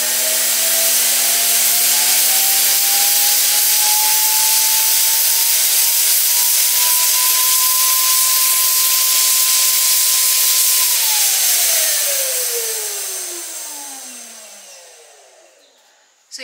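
Wagner Flexio 5000 paint spray gun running at its lowest airflow setting: a loud, steady rushing blower hiss with a faint rising whine that drops off near the end as the unit winds down.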